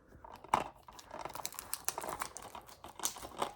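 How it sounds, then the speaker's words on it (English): Thin plastic wrapping is peeled and torn off a DVD case close up, a quiet run of irregular crinkles and crackles with a few sharper snaps. "I might be able to get the wrapping off without the scissors."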